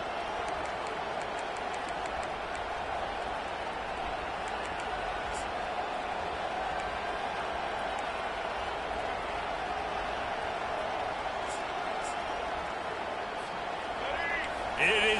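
Stadium crowd in the NCAA 25 college football video game keeps up a steady, broad roar of cheering, even and sustained, with a commentator's voice running over it and a slight swell at the very end.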